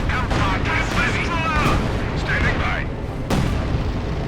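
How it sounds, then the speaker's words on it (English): Artillery bombardment in the World War II strategy game Company of Heroes 2, with repeated heavy booms and crackling blasts layered under a continuous commentary voice, including one sharp loud impact near the end. "Pack firing here, being bombarded."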